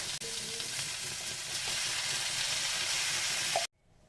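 Ginger and garlic sizzle steadily in hot oil in a wok for Punjabi street-style chole, a loud, even frying hiss that cuts off abruptly near the end.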